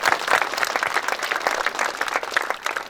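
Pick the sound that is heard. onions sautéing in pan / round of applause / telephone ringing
round of applause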